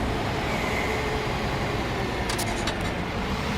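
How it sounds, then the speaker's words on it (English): A truck engine in On The Road Truck Simulator drones steadily at a constant pitch, a loud, even rumble with road noise and a few faint clicks near the end. "I hear the truck a bit louder as well."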